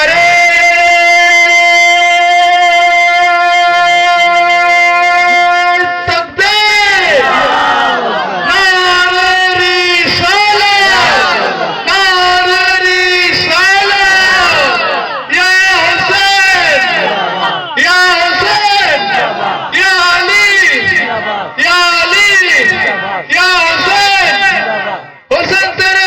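A large religious gathering chants devotional slogans in unison, loud rhythmic call-and-response bursts repeating in waves after a sustained opening tone, filling the space with massed voices.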